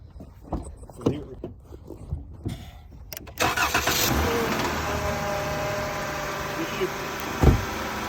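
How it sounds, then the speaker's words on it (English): A 2017 Chrysler Pacifica with a fuel pressure sensor circuit low fault starting up: several clicks and thumps, then the engine cranks, catches and settles into a steady, loud idle. "So what I'm going to do is start up the car."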